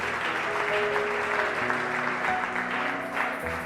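A church congregation at a youth gathering applauds and cheers continuously, a dense roar of clapping with scattered voices throughout.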